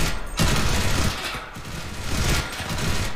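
Machine gun fire in the World War II shooter Enlisted, sustained rapid bursts of automatic shots close and loud, with a short pause before the firing continues.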